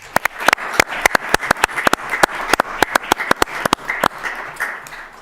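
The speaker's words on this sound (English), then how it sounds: "Round of applause for Lasan" Applause from the audience at a city council meeting, a round of clapping for a newly appointed acting HR manager, heard as a steady run of sharp, fairly close claps from a modest crowd with no talking over it.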